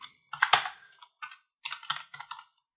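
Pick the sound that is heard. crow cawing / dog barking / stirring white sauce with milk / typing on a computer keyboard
typing on a computer keyboard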